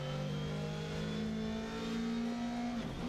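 A rally car engine in Dirt Rally 2.0, an R5 category car on a Spain stage, drones steadily at high revs, its pitch holding then dipping slightly near the end, continuous and close.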